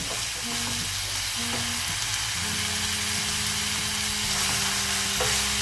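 Coriander chicken (dhaniya chicken) cooking in a pan, a loud, constant close sizzle of frying that runs throughout, with faint scraping of stirring now and then and no one talking.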